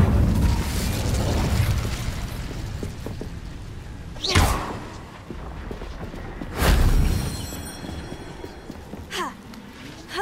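Incendio fire spell cast in Hogwarts Legacy: a rumbling magical bed broken by two sharp whooshing bursts a couple of seconds apart, each flaring loud and fading, with a softer whoosh near the end.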